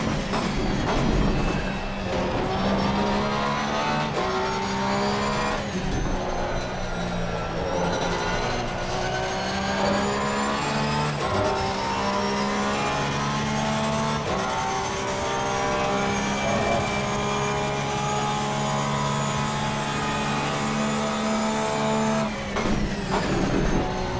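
Race car engine at full throttle in Assetto Corsa Competizione at the Nürburgring, a loud continuous high-revving roar with rising pitch sweeps and brief dips at gear changes throughout.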